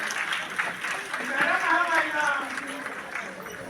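Applause from an audience at a lamp lighting ceremony during an awards festival, moderate clapping with a voice speaking over it.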